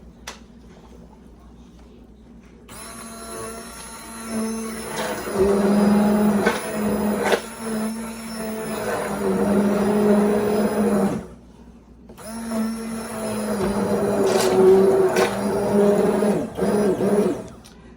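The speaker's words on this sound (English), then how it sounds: "I'm gonna give them a blend with my Immersion blender." A handheld immersion blender blending cooked tomatoes whirs loudly in two long bursts separated by a short pause, its motor pitch wavering as it churns.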